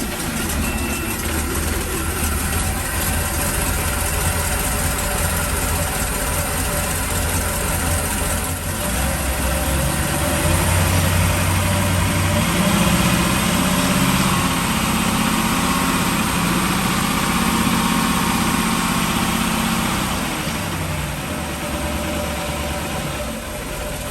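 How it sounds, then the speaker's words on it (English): The remanufactured port engine of a 2000 Sea Ray Sundancer 310 boat idles with a loud, steady drone that runs unbroken for over twenty seconds, with no talking. "Okay, so we're going to start with the port motor."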